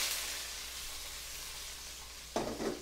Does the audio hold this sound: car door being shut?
no